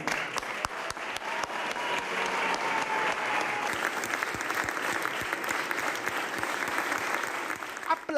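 Applause in the historic Sala Stucchi as the new mayor receives his sash: a steady, dense clapping from a gathered crowd, sharp individual claps standing out near the front, continuing unbroken throughout.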